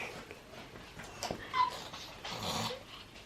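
A puppy whimpers in a few faint, short whines and soft yips amid quiet household background noise.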